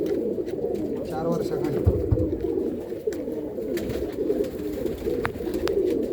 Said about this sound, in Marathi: आंध्रामधून घेतलेली कबूतर आहेत